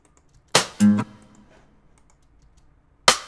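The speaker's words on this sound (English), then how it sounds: "they use a rim shot on the original track" Rim shot snare sample in FL Studio, sharp dry clicks played alone: a crack, a quick pitched knock just after it, then a pause and one more crack.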